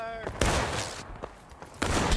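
Musket volleys crack out in a video game bayonet-charge battle, several sharp bursts of gunfire against a noisy field background, with shouting voices mixed in.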